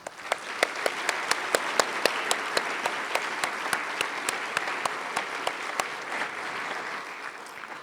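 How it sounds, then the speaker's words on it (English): Members in a legislative House chamber on opening day applaud staff: steady sustained applause from a large room, with a few sharp individual claps standing out throughout. "Members, let's give them a round of applause"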